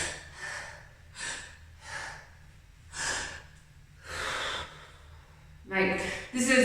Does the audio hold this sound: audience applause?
no